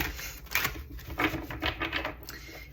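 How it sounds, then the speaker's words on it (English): Tarot cards being shuffled by hand, a run of quick papery riffles and soft taps coming in uneven bursts, close and fairly loud with no talking. "let me just take a moment to shuffle these with this energy"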